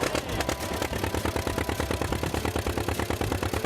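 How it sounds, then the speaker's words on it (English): An old tractor engine, hand cranked to start, runs at a loud, close, rhythmic clattering idle with evenly spaced chugging beats throughout during old-style corn chopping work. "Normal when I hand crank a tractor."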